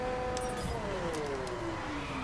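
In the racing game The Crew, a car's engine whines in a rising then falling tone as nitrous boost kicks in, a short continuous surge up close.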